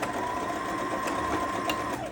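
A sewing machine runs steadily, stitching a sleeveless short gown, its motor humming in a continuous fast whir close by until it slows at the end.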